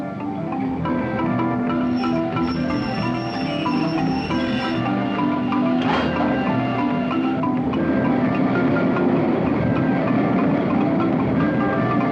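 A locomotive runs on rails in an old film, giving a loud, continuous low rumble and rolling clatter with faint tonal whines and a brief sharp clank midway.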